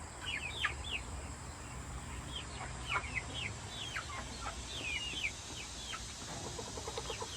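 Hens and chicks in a backyard homestead flock, with a mother hen nearby, cluck and cheep in a steady, busy chatter of short high calls that overlap across the whole stretch, fairly close and alone without talk.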